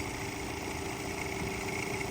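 A van's engine idles in arctic conditions, giving a steady, dense mechanical drone with a constant hum and no change in rhythm, close and unbroken throughout, with no voices.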